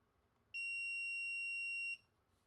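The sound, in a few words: multimeter continuity beep, wire touching pin inside power jack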